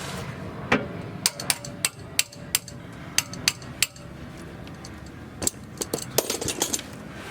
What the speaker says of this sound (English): Add a hammer.